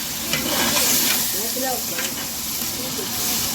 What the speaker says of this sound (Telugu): మసాలాలు బాగా ఏగేదాకా బాగా తిప్పుకుంటూ ఉండాలి